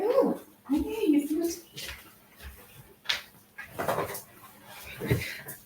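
A dog outside a casita door whimpers and whines in short, high, pleading bursts, followed by scratching and shuffling sounds, close by with some speech mixed in.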